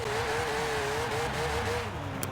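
A 1963 Beetle in Forza Horizon 4 idles under held throttle near 2,000 RPM, a steady droning engine note that wavers slightly in pitch, close and continuous.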